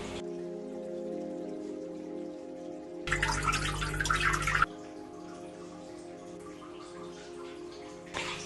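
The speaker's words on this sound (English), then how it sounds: "I've just started tapping out all the water from the goldfish tank and just waiting for it to drain" Water trickles and drips as a goldfish tank drains during a water change, a faint steady patter, interrupted by a brief louder rushing burst midway.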